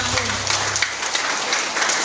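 A church congregation claps during a Filipino worship service, a steady broadband wash of applause running through the whole moment, with a voice briefly audible at the start.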